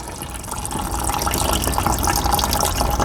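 Coolant drains from a neglected motorbike radiator during a coolant change, a steady close splashing trickle of liquid into a container, loud and continuous.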